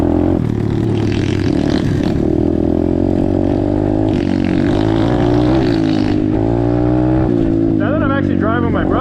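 Apollo DBX15 Chinese pit bike running loud and close throughout, a steady buzzing engine drone with shifting revs, under people talking.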